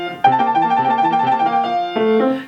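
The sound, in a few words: piano passage played wrong, left hand notes cut short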